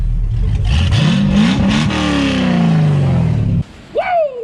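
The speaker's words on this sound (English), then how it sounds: "Y'all a little exhaust note here real quick." A Chevrolet C10 pickup truck engine revs up loudly and holds a droning exhaust note, then cuts off abruptly, followed by a brief whoop.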